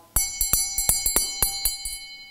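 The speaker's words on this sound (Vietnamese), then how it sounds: "giờ này chúng tôi lắc cái tiếng linh" A small Buddhist hand bell rung during a Dharma talk, giving about ten bright, ringing metallic strikes in a quick, steady rhythm, each with a sustained shimmering overtone, close and clear with no talking.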